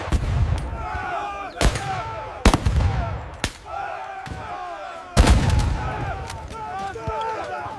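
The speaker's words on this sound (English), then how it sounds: "The shot that changed the world was fired." Musket gunshots in a dramatized colonial-era reenactment, several loud sharp cracks at irregular intervals over a murmuring crowd with shouting voices.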